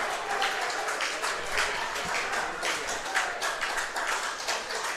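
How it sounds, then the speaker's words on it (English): Home crowd at a baseball game cheering and clapping in a steady dense wash of applause and crowd noise, continuous throughout at moderate distance. "The home crowd starting to show some spirit once again"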